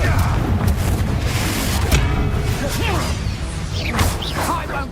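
A Confringo spell cast in Hogwarts Legacy bursts with booming, whooshing blasts and crackling impacts over busy combat noise, with voices talking throughout.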